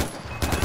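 Rapid gunfire in Far Cry 4 comes as a loud, dense burst of automatic shots, close and sustained through a brief moment.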